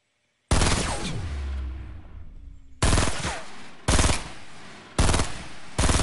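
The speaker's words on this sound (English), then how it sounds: "I think this is an epic shotgun." Four loud, close blasts from a shotgun in Fortnite, each with a sharp crack and a long decaying tail, spaced about a second apart after a short silence, with no talk.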